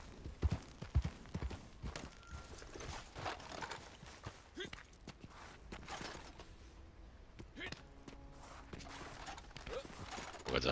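A horse's hooves clop across rough ground in Red Dead Redemption 2 Online, an uneven run of close hoofbeats mixed with game noise while a player talks intermittently.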